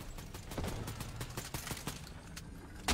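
Rapid bursts of video-game gunfire from a gun in Fortnite crack out in an uneven rhythm, loud and close, with a heavier burst right at the end.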